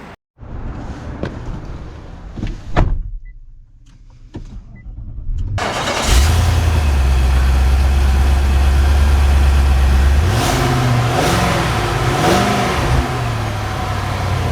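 A 2024 Infiniti QX80 SUV engine cranks and starts after some quiet handling sounds, then settles into a loud, steady idle with a couple of brief revs near the end.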